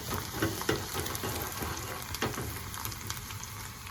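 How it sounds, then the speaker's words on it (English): Sliced garlic frying in heated oil gives a steady, fairly quiet sizzle and crackle. Small pops and stirring sounds come through now and then. "So here the oil has been heating up, and then I'll put all this sliced garlic."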